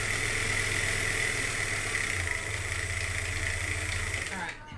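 Sewing machine stitching fabric with a steady, fast mechanical whir and rhythmic motor hum that continues evenly before stopping at the end.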